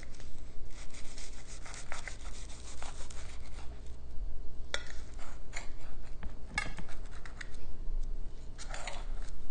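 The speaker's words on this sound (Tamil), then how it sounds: "பாருங்கள் எவ்வளோ க்ரன்ச்சியாக இருக்குதுன்னு கட் பண்ணும்போதே." A knife cuts through a crunchy potato sandwich, giving a string of dry, scratchy crunches and scraping strokes, close and fairly loud, with sharper cracks now and then.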